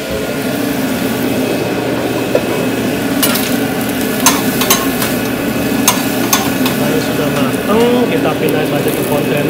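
Shrimp frying in a pan inside a food truck, a steady close sizzle with a low engine-like hum underneath and scattered scraping and tapping clicks from utensils, while a voice talks over it.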